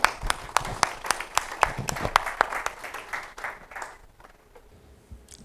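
An audience at an Islamabad business event claps to welcome a speaker. Distinct, fairly quiet claps come in an uneven patter, then thin out and fade to near silence toward the end.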